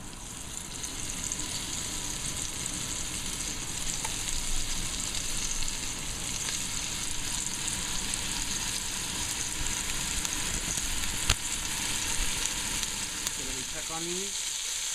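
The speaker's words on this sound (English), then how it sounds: "you want to give it a nice crispy, sort of just sear it on the outside and give it a nice caramelization" Flour-coated goulash meat sears in a hot pan, giving a steady, close broadband sizzle that runs unbroken, with a faint tap or clink near the end.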